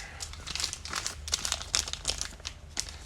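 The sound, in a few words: plastic bag crinkling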